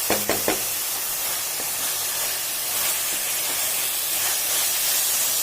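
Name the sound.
tomato masala frying for tuvar dal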